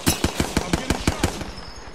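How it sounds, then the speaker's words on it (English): Automatic gunfire in the video game Apex Legends, a rapid run of about ten evenly spaced loud shots that stops abruptly, leaving a faint trailing hum. "I'm getting shot."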